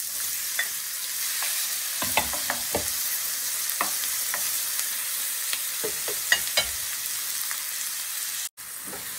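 Cabbage, mushroom and shrimp stir-frying in a pan: a soft steady sizzle broken by scattered clicks and scrapes of a utensil against the pan, close by, ending in a brief cut of silence.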